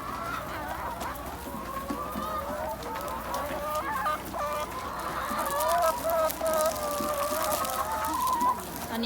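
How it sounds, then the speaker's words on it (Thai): A flock of laying hens clucking and chattering nearby while being fed, busy and continuous, with occasional rustling underneath. "กำลังให้อาหารไก่กันนะคะ"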